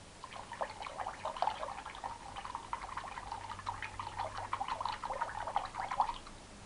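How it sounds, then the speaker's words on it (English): Warm running water rinsing soapy acrylic paint brushes, a steady close trickle and splash with small irregular drips and sloshes throughout, no voices. "I'm just going to rinse it out"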